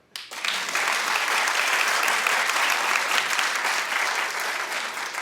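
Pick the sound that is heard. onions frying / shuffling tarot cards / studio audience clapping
studio audience clapping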